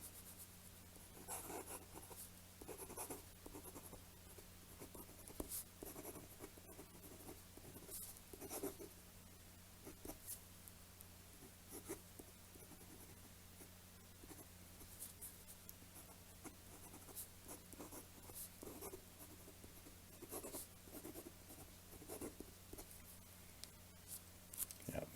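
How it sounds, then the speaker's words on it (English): A fountain pen nib on paper gives a soft, continuous scratching with faint feedback, steady strokes running for the whole stretch at low volume, close up, with no talking. "you might be able to hear there's some feedback, but this is very smooth"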